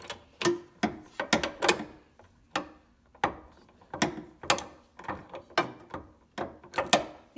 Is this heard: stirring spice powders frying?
no